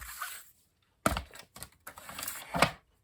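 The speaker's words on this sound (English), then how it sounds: "we're going to get out the cut and emboss machine" A die-cut and emboss machine runs in short bursts of clicking and clattering, with a brief pause before it starts and a sharper mechanical rattle near the end.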